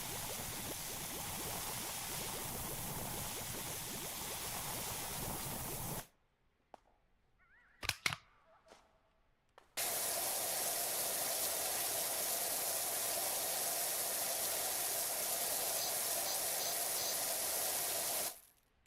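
In PowerWash Simulator 2, a pressure washer sprays soap in a steady loud hissing rush that cuts off for several seconds with a few small clicks, then resumes just as strongly before stopping.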